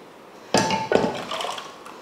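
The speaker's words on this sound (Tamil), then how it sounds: "அதனால நான் ஒரு பாத்திரத்தில் இந்த பருப்பை மாற்றிக்கிறேன்." Mashed lentils being moved from a pressure cooker into a vessel in a home kitchen, heard as two sharp metallic clinks of utensil against pot followed by softer scraping and knocking, close and fairly loud with no talking.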